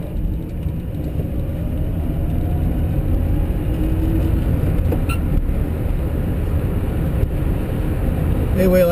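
Electric Karmann Ghia EV conversion pulling away in first gear on a cold, overcast day in Shasta County, California, a steady low road rumble and drivetrain hum with faint whine throughout, no engine note.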